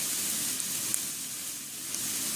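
Chopped onions sizzle steadily in a hot pan while fried rice is cooked, a continuous fairly loud hiss with faint clicks and no voices.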